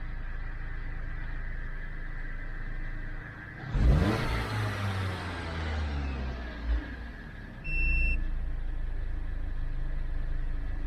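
A 2012 Dodge Avenger in limp mode with a throttle body fault runs steadily, a constant close engine drone with a brief surge partway through and a few faint electronic beeps from a scanner.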